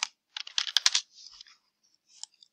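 Quick bursts of close computer keyboard typing, a run of rapid keystrokes followed by a few scattered taps, with no talk.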